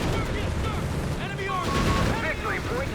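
Tank cannon and gunfire in a Company of Heroes 3 match between Wehrmacht and US Forces, with booming shots and battle noise that stay steady throughout, while a voice talks over the action.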